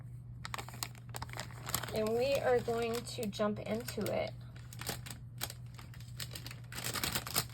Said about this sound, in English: I'm going to open my goodie package.